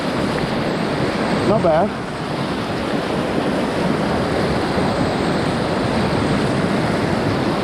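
Rushing river water through rapids near a kayak on a surf wave, a loud, continuous churning roar mixed with wind buffeting the microphone, and someone speaks briefly over it.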